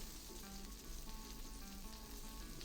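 Duck breast searing in a pan until golden brown, giving a steady, quiet sizzle and crackle of frying fat that runs unbroken with no talking.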